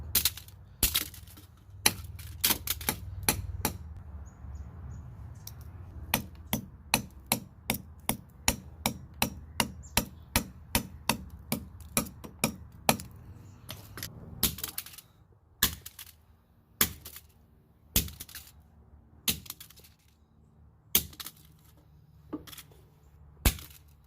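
Dozens of sharp hammer blows crack and crunch against a brittle speaker, coming in quick irregular bursts with small pauses between groups, close and fairly loud.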